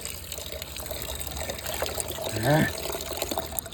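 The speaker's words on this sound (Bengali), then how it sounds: "চলো এখান থেকে একটু জল দিই নি ঘটিতে।" Water from a sun-heated rooftop tank on a 42-degree day splashes into a metal pot, a short rising gurgle of filling amid steady background noise, with a brief spoken word nearby.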